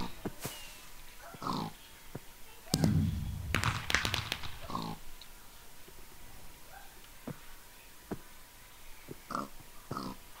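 Short pig grunts and oinks in the Block Hunt minigame, several scattered bursts mixed with clicks and thumps, fairly close, with no talk over them.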